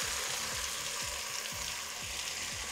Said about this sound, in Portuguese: Dá uma boa refogada.